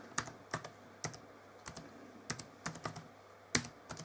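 Someone types on a computer keyboard in short, irregular bursts of crisp key clicks, close and quiet, with pauses between strokes and no talking.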